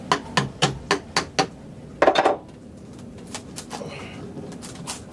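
Metal screwdriver prying and tapping at stuck, soggy material on a boat engine hatch, giving a rapid series of six sharp knocks followed by a louder scraping burst and a few fainter taps, with no talk.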